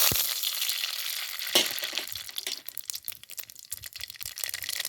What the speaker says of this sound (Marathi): आता मोहरी चांगली चढचडली